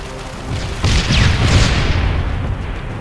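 A tank blows up in the Halo: Spartan Assault video game with a loud, full-bodied boom that swells and rumbles on for a few seconds, no voices over it.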